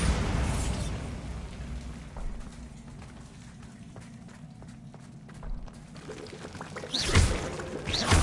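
A Bombarda spell bursts in Hogwarts Legacy with a muffled blast late on, following a steady rumble of game ambience and scattered small pops and impacts.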